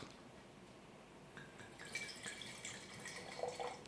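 Dark red wine is poured into a glass, a quiet trickle that grows fuller and brighter partway through, close and soft.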